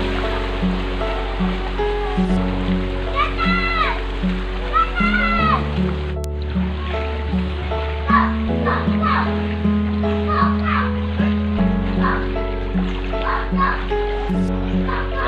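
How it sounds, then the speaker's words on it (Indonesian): Strong current of Jakarta floodwater rushing along a flooded street, a steady wash of flowing water heard throughout beneath continuous talking and other background sound. "ada arus cukup deras."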